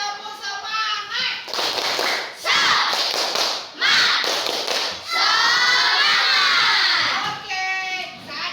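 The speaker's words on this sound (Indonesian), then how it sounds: "Kita tepuk semangat dulu, tepuk semangat." Schoolchildren in an Indonesian elementary classroom clap out the tepuk semangat chant, with loud rhythmic bursts of clapping and chanted voices coming in several close waves.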